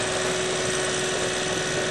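A lake grass mower clearing tall regrowth on a lake bed that had been dry for over a year runs with a steady, continuous mechanical drone at moderate volume, unbroken and without talk.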